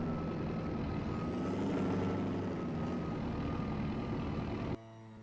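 At a truck show in a video game, heavy truck engines rumble continuously at a strong level, with a brief hiss near the start, then cut off abruptly near the end, leaving a quieter tone.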